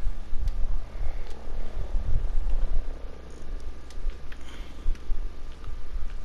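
A helicopter in the Ghost Recon Breakpoint video game makes a steady low rotor drone, loud and continuous throughout, with a faint hum and scattered clicks layered over it.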